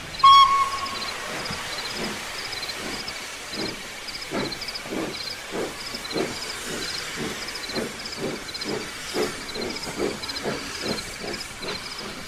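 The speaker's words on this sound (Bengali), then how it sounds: "ট্রেনটা হুইসেল বাজিয়ে আস্তে সুস্থে চলে গেল" Steam train departing slowly in a radio drama scene, a brief whistle at the start followed by steady rhythmic chuffing and hiss that continues throughout at moderate distance, with no voices.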